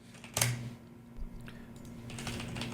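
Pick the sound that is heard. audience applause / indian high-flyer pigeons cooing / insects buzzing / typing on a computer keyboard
typing on a computer keyboard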